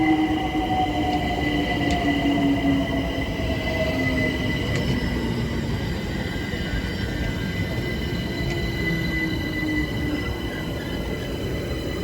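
A London Overground Class 378 electric train rumbles past steadily, with a broad roar and faint wheel squeal tones drifting throughout, continuous and fairly loud with no talking.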